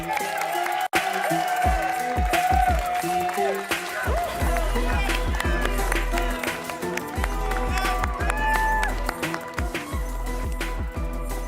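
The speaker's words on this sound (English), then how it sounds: "give it up for Juju Smith-Schuster" An audience at the EA Play event applauds and cheers loudly and continuously, with a rally announcer talking over the sustained clapping and whoops, plus a sharp bang near the start.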